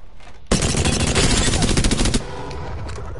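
Loud burst of rapid pistol fire from the Wingman in Apex Legends, a dense volley of close shots lasting under two seconds, with faint game ambience before and after.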